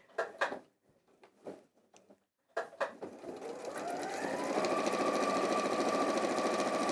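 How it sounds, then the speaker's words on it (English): Sewing machine reverse stitching quilt binding: a few brief clicks and handling knocks, then the motor starts and runs in a steady close whir that holds to the end. "And then again, just on there, just reverse stitching."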